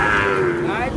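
A large working bull at the Sangola cattle market gives one deep, drawn-out moo, loud and close, with no talk over it.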